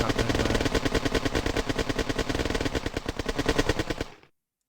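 Rapid, relentless gunfire from the video game Red Alert rattles in steady bursts for about four seconds, loud and close, then cuts off abruptly into silence.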